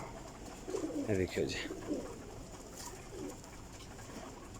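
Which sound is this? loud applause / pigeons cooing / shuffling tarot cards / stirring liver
pigeons cooing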